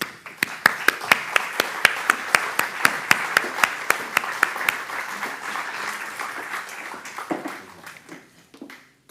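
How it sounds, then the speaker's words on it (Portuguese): Applause at a literary gathering, starting as sharp, closely spaced claps from a small audience that soften and thin out toward the end. "peço uma salva de palmas, por favor"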